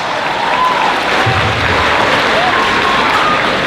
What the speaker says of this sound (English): If you've attended CSM, can you give a round of applause?